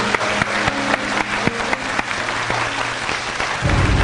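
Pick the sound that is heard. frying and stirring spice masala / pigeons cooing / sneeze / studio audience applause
studio audience applause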